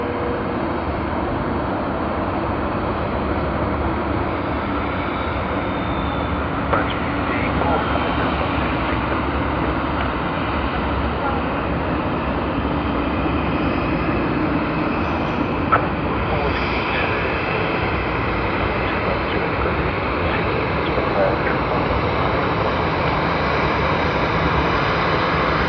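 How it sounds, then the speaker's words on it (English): A Virgin Australia Airbus A330-200 makes the first arrival after curfew at Sydney Airport. Its steady engine drone is heard at a moderate level and holds for the whole stretch, with a few faint clicks over it. "That's Airbus A330-200. Whoa, Virgin Australia today."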